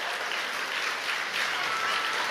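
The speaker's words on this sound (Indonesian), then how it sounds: "Jangan malu-malu, kasih tepuk tangan aja buat Tuhan yuk." A crowd at a church sermon claps together in a dense, continuous burst of applause, loud and even throughout with no gaps.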